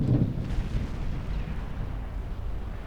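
Warship guns firing in the naval battle game Ultimate Admiral Dreadnoughts, a deep rumbling boom of big-gun fire that rolls on continuously, heavy and low, with no talk.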